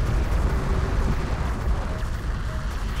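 Dense battle noise from the strategy game Homeworld: Deserts of Kharak, a loud continuous rumble of explosions and weapon fire with booming bursts blending together, no voices over it.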